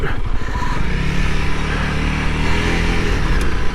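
Honda CRF300L motorcycle ridden off-road, its engine droning loud and close with a steady mid-pitched hum under wind and road rumble, no speech.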